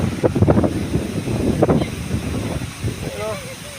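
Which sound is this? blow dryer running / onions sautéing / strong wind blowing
strong wind blowing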